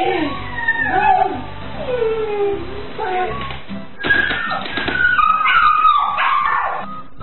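A dog in the Pinoy Big Brother house whimpers and whines in rising and falling cries, with short barks, loud and close, with voices faintly underneath.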